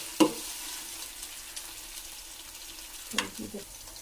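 Ginger frying in a pan for beef pickle, a quiet steady sizzle with two sharper bursts of crackle near the start and end, no voices.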